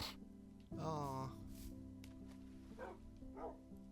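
A dog in the Minecraft video game yelps and whimpers in a burst of wavering cries, followed by a few shorter yips, over a steady game background hum.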